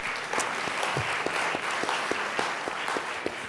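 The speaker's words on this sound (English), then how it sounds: "Give him a round of applause." Audience applause after an introduction at a political discussion panel, a steady wash of clapping from a crowd with sharper individual claps popping through, sustained at moderate distance for the whole stretch.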